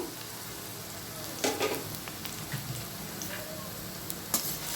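Thin slices of ridge gourd frying in oil for a chutney, a constant soft sizzle with a few stirring knocks and scrapes against the pan.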